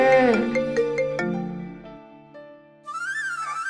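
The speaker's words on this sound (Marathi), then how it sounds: "कृष्णाईला लगेच व्हिडिओ कॉल करून टाकू." An outgoing video call on a phone rings out in a clear electronic tone: a few bright chiming notes, a short pause, then a higher warbling tone starting near the end, close and alone with no voices.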